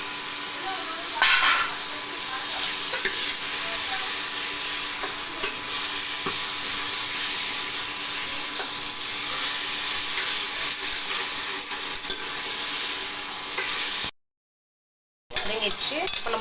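Tomatoes sautéing in hot oil for a goat head curry, a steady loud sizzle with occasional spoon stirring scrapes, continuous throughout, then a brief drop to silence near the end before the frying resumes.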